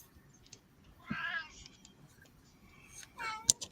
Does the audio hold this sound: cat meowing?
yes